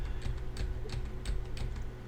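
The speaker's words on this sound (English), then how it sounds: "if we use our arrow keys on the keyboard" Arrow keys tapped on a computer keyboard, a run of soft, fairly quiet clicks about every third of a second against a low steady hum, with no voices.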